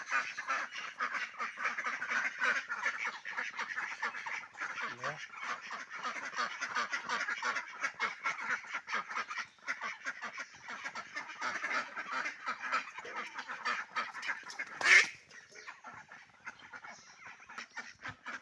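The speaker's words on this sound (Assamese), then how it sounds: "এয়া একদম পূৰা খাটি কেম্বেল হাঁহ হয়" A flock of Khaki Campbell ducks on a farm quacking continuously nearby, overlapping calls forming a busy chatter, with one sharp louder burst toward the end.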